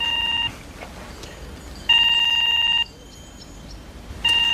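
An electronic telephone rings in short repeated bursts, each one a steady clear tone with quiet gaps between, no voices.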